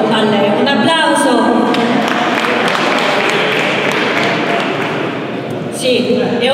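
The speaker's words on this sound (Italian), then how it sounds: "Un applauso!" Audience applause at an Italian award ceremony in Rome, a dense, steady wash of clapping that fills the hall for several seconds, with voices heard over it at the start and the end.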